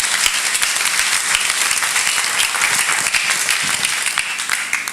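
A church congregation at a Sunday service claps their hands for Jesus in dense, sustained applause that stays loud and even throughout, with no one speaking over it.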